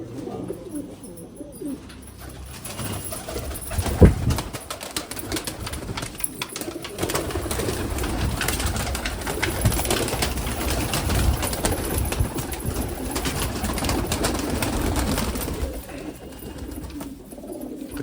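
Teddy golden pigeons coo continuously in a loft, a dense layered chorus of soft burbling calls close by, with occasional louder knocks.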